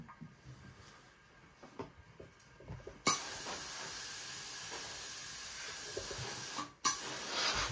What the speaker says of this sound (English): You got so much steam.